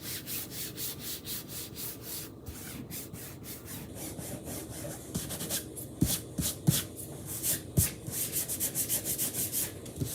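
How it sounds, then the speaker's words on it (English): A Chalk Couture transfer being rubbed down onto a surface, steady close scratchy rubbing strokes in a continuous rhythm, growing slightly choppier near the end, with no voice. "you want to really make sure you rub that down."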